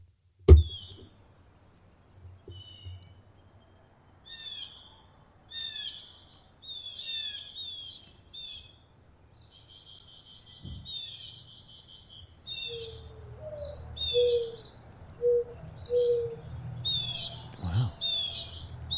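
Wild birds call in a wet sclerophyll forest, with repeated chirps and whistled notes near and far, a few low hooting calls, and occasional knocks from people moving about, with quiet voices at times.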